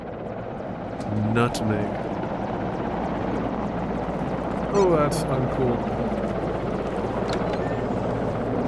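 Helicopter rotor in the video game Polyaris, a steady low chopping drone running throughout under a voice speaking over it.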